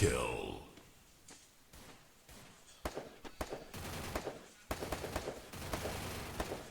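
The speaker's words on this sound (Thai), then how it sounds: "ตาเต๋อยิงด้วยดีเซอร์อีเกิลใส่แบแบครับ" Desert Eagle shots ring out in a Free Fire match during an esports broadcast. Sharp, separate gunshot cracks come in uneven clusters under a commentator's excited talk.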